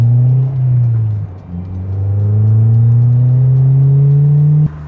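A Honda sports car engine revs hard and loud, pitch climbing through gears with a brief dip at a shift before rising again, then cutting off abruptly near the end.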